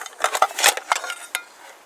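Metal bowl or plate from an old-school haversack mess kit handled outdoors in snow, giving a run of light clinks and scrapes, close and moderately loud, with no voices.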